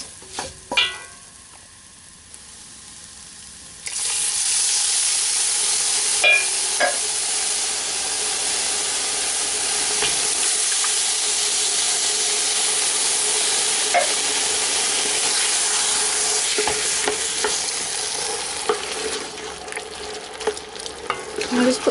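Tomatoes tipped into a hot pan for goulash soup, a loud steady sizzle of frying that surges in after a quieter start, with occasional scraping stirs and light clinks running throughout.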